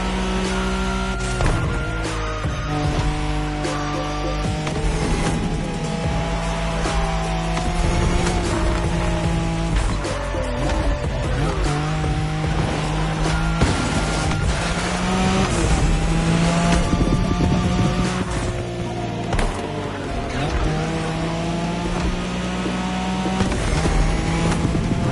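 Nissan Skyline race car engine roaring steadily in Crew Motorfest, a continuous loud drone with shifting pitch and gear changes throughout, alone with no talk.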